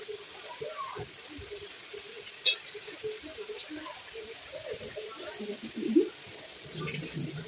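Water runs from a tap into a pot of frozen tomatoes, a faint steady trickle in a kitchen with clinks and handling noises and a voice talking quietly over it.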